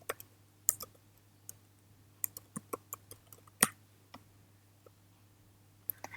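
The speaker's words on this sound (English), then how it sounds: "you need to type in the domain you want" Typing on a computer keyboard: a domain name keyed in as light, irregular clicks spaced across the stretch, quiet and close, with a low steady hum beneath and no talk.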